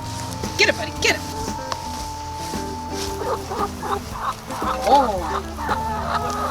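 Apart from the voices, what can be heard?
chickens clucking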